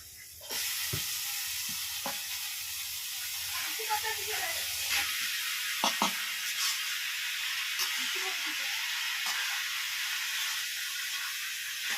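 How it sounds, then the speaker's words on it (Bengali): Boiled banana flower is added to potatoes and tomatoes frying in a pan, producing a soft sizzling hiss with occasional clanks and scraping, fairly quiet, while a person talks at times. "এবার আমি দিয়ে দেবো মোচা সিদ্ধগুলো।"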